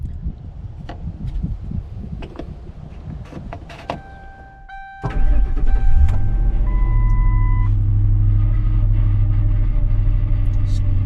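A broken car engine idles roughly after starting, a steady low rumble with uneven throb following a short whir and clatter, loud and close with no speech.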